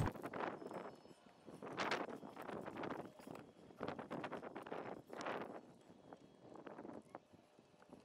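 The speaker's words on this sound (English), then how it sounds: "Please excuse the wind" Gusty wind from an approaching storm buffets the microphone in uneven rushes, swelling and fading over several seconds with no voices.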